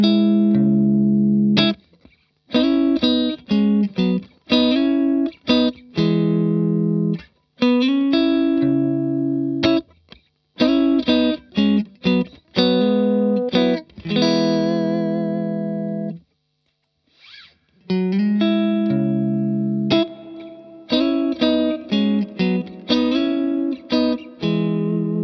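Distorted electric guitar riff with chords and short stabs, drenched in springy reverb, with a brief pause midway before the playing resumes.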